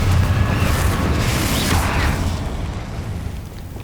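Fiery Confringo blast spell cast against Inferi in Hogwarts Legacy, a loud low booming burst with a rumbling roar that sustains, then gradually fades over a few seconds.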